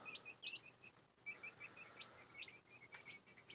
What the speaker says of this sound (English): little chickens.